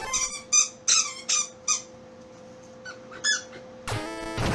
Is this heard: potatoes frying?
no